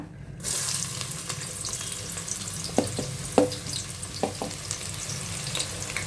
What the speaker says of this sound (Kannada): ನೋಡಿ, ಆಯಿಲ್ ಕಾದಿದೆ. ಈಗ ಆನಿಯನ್ ಹಾಕೋಣ.